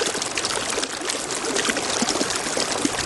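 A steady stream of water pours over a toy train to wash it, a close, continuous splashing trickle with no voices over it.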